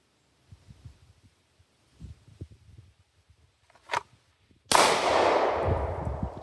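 A single loud handgun shot fired during holster drawing practice, a sharp crack with a decaying tail, preceded by faint shuffling handling noises and a brief clack.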